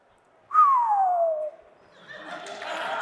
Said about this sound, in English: Here's a bird tweeting according to AI.